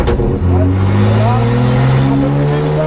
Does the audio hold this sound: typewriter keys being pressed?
no